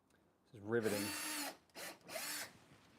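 A handheld power drill whirs in two bursts, the first about a second long and the second shorter, each rising in pitch as it spins up, with quiet pauses before and between.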